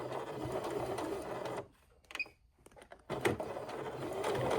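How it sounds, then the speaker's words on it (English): A sewing machine stitches up the binding of a fabric zippered bag with a 1/4 inch seam, running steadily up close, stopping for about a second and a half, then whirring on again. "now we're gonna come over here and sew it up"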